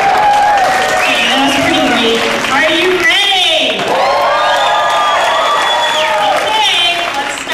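A banquet audience claps and cheers in a sustained burst of applause mixed with whoops and shouts, while a voice talks over the crowd noise.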